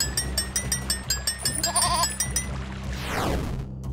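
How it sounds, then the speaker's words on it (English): A video game goat gives a quick run of loud, wavering bleats up close, followed by a sweeping, descending electronic whoosh. "A goat! Obviously, the cage is locked."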